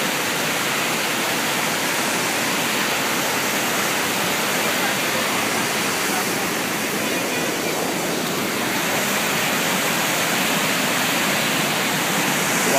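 Swallow Falls waterfall in North Wales, a dense, constant rushing roar of falling water, loud and close, unbroken for the whole stretch with no talk over it.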